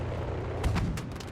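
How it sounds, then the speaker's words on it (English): Cannon fire from a Mosquito FB Mk VI aircraft in a Battlefield game, a few heavy, booming thuds in quick succession buried in a dense, roaring wash of engine and battle noise. "Oh, we hit him with the cannon."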